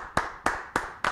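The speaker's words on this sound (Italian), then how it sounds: "a cui tributerei un applauso" Four sharp hand claps in quick even succession, close and fairly faint, a brief round of applause for a guest on a talk show.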